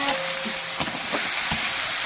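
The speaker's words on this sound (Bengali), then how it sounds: "দেখেন আটি ভাজছি আমি।" Jackfruit seeds fry in a pan with a steady broadband sizzle, broken by a few sharp scrapes and clicks as they are stirred around; no voices.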